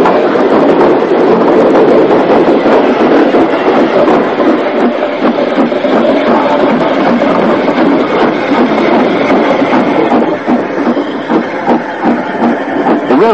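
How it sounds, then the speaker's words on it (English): A British Railways 0-4-0 tank engine collects empty wagons on the short section between the top of Sheep Pasture and the bottom of Middleton Inclines, giving a loud, continuous rumble of wheels and rolling stock close at hand that eases slightly toward the end. "tank engine type picked up the empty wagons"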